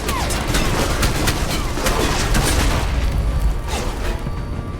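Gunfire in the video game Alpha Protocol, a loud, dense run of rapid shots and booming impacts filling the whole stretch without letup.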